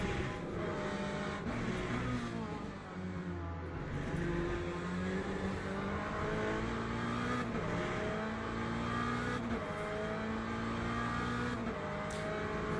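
A Mustang race car in Le Mans Ultimate driven online at Interlagos or Portimao, its engine roaring loudly and steadily as pitch climbs and drops through gear changes, with a downshift blip and faint tyre squeal, no talking.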